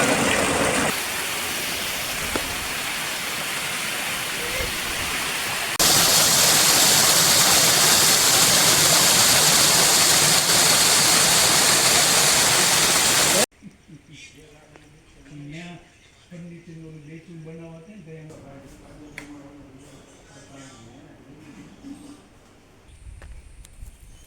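Water tumbling over stones at Atmeshwar Mahadev temple in Junagadh makes a loud, continuous rushing roar that swells louder partway through, then cuts to a much quieter scene where people talk over faint background sounds.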